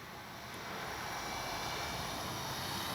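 An RC model F4U Corsair warbird airplane cruises overhead with a steady, buzzing propeller drone, fairly faint and unbroken, with no voices.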